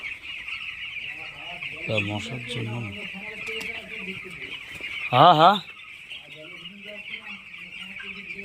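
Hens clucking and a rooster-like call in a poultry shed where birds are raised both on a raised slatted platform and on the floor, with a steady high insect-like buzz throughout and people talking nearby.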